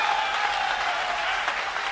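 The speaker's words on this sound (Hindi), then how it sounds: "उठाकर मनवीर के लिए तालियां बजाए" A Hindi kavi sammelan audience gives steady, dense applause for a poet reciting verses about martyrs, loud and close throughout with no gaps and no voices rising above it.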